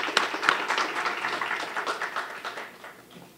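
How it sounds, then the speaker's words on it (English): A round of applause greets a presenter at a university women's leadership colloquium, many hands clapping steadily at moderate volume, then tapering off in the final second. "Let's give a round of applause for her"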